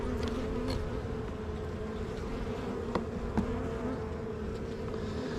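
Dense steady drone of honeybees in an opened queenless hive, a close continuous buzz with a few louder individual bees passing near, with no voices.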